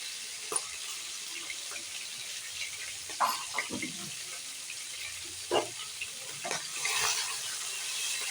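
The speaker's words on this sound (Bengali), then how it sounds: "চিংড়ি মাছগুলো ভেজে নেব আগে।" Prawns fry in hot oil, a steady soft sizzling hiss broken by a few sharper spits and crackles, close and fairly quiet.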